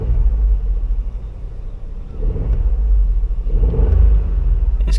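Inside a 2022 VW Polo R-Line, the engine rumbles deeply and climbs in two surges of revving, a loud low drone filling the cabin with no talk.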